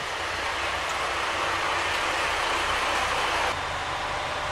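A Kyoto Tango Railway rapid train runs along the track, giving a loud, steady rushing rumble of wheels and motion that stays constant throughout with no speech.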